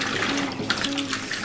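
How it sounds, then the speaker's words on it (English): Water sloshes and runs steadily inside a washing machine during a rinse cycle while stripping cloth nappies, a continuous close liquid wash with a low hum and brief splashy surges, no talking. "put it on another rinse cycle"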